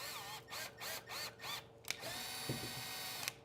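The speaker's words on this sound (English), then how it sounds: "we are drilling in like a drill bit, and then right when we feel like we're touching the sheet metal, we're backing out" A power drill boring into the sheet metal of a van, with several short whining bursts that stop and restart as the bit backs out and goes back in, followed by brief clicks and a steady mechanical whir.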